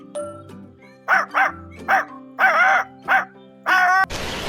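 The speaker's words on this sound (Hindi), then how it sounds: "अरे कौन भौंक रहा है ये बदतमीज?" A dog barks repeatedly, close and loud, in a run of sharp yips and woofs separated by short gaps, ending in a burst of noise.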